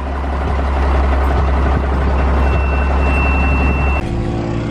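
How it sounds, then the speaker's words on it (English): A Case 1896 tractor's diesel engine runs steadily after starting, a loud continuous low rumble with a constant idle drone that drops to a deeper, smoother tone near the end. "this right here is like the on and off switch for the engine, so it should start up"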